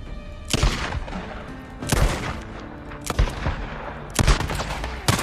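Gunfire in the video game Days Gone rings out in four or five loud, sharp shots spaced about a second apart, each with a short booming tail, and no voice over them.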